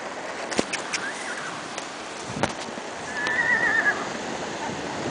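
Ponies in a stable early on a horse show morning, a clear whinny rising in the middle of faint background noise, with scattered hoof knocks and thumps around it.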